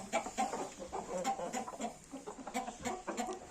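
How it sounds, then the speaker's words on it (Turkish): Several chickens cluck continuously in overlapping, irregular calls, a busy farmyard chatter at moderate distance. "Buralarda da yine tavuklar var herhalde."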